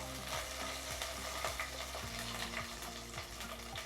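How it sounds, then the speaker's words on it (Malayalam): Dried red chillies and curry leaves sizzle in hot oil in a Kerala kitchen while being stirred, a soft continuous crackle with scraping spoon strokes against the pan and a low background hum. "ഇനി ഒന്ന് ഇളക്കി കൊടുക്കുക."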